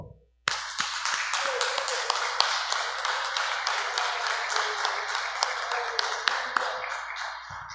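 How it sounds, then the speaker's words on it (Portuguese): A church congregation applauds, a dense, steady burst of many hands clapping that starts abruptly and carries on evenly for several seconds, with a few sharper claps standing out. "Vamos aplaudir ao Senhor."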